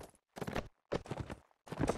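Warhorse hooves in a medieval combat game, a few loud close clip-clop bursts in uneven rhythm separated by short silences.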